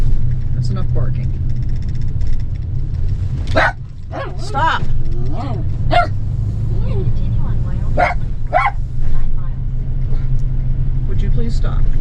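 A dog barks in a series of sharp, loud bursts inside an RV driving near Belle Fourche, over a constant low road rumble, while a person speaks briefly.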